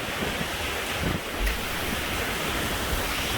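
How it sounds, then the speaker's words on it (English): Strong hurricane wind as Hurricane Laura moves in around midnight near Sulphur, Louisiana, a constant loud roaring rush that buffets the microphone with no letup. "Wind's really picking up now."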